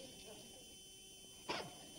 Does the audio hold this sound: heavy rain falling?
no